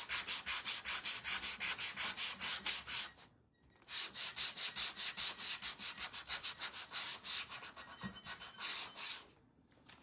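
Sandpaper rubbed on a craft piece in fast, even back-and-forth strokes, loud and close, with two brief pauses between bursts and no talk.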